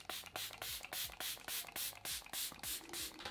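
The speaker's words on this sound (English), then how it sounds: "It's a very, very fine mister as well, this." Rapid bursts from a Sculpted by Amy Hydrate and Hold fine-mist setting spray, about a dozen short hissing pumps in steady rhythm, close and fairly loud with no talking.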